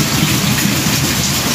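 Heavy rain pours down steadily in a loud, dense hiss, with a deep thunder rumble running underneath throughout the short stretch; no voices.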